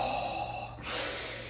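A person imitates anxious, shallow breathing with a quick sharp gasp followed by a breathy exhale, close and alone.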